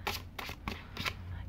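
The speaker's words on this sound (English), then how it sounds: "They shuffle really well. They shuffle really easy." A tarot deck is shuffled by hand, a series of brisk papery riffles in a steady rhythm, close up with no talk.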